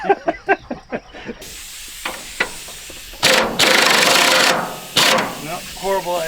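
An impact gun with a socket tries to spin over a stubborn old engine, giving several loud, long buzzing rattling bursts with a few sharp knocks before them and brief voices around them.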